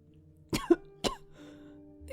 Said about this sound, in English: Scriabin gave a wet cough.